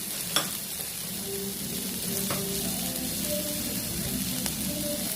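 Fried paneer and cooked rice stirred together in a hot pan, a constant close sizzle with occasional light scrapes and taps of the spoon against the metal, steady and unbroken.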